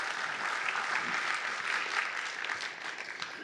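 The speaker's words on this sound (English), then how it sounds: "let's give all of our big downtown projects and everything happening a big round of applause" An audience at a Long Beach civic event claps steadily for a few seconds, a moderately distant, even wash of applause without voices.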